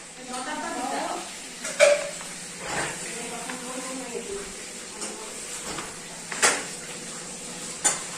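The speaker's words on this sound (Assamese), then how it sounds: "এজনীয়ে বাচন ধুবলৈ লাগিছে" Dishes are washed by hand at home, with scattered clinks and clatters of plates and utensils and a few louder knocks, while a person talks throughout.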